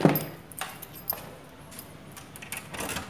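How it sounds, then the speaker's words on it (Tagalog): Metal keys jangle and clink in short bursts during an electrical job fitting a light receptacle and latch lock, close by and moderately loud with no talking. "So, gamit tayo ng susi."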